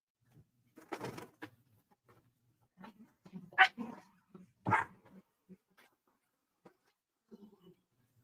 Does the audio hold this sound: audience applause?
no